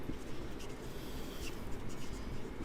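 Pen scratching steadily across paper while a finance solution is written out by hand, a continuous close rubbing texture with no talk.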